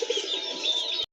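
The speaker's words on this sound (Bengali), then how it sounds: "সাদার ভিতরে আরেক জোড়া দেশি কবুতর" A pair of white desi pigeons with crests coos steadily and close up, a continuous low throaty burble that stops abruptly.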